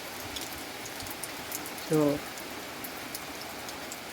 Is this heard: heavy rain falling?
yes